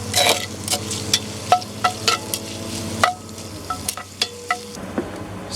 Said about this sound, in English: Stir it up. It's going to take some of the harshness off of the garlic before we put everything else in.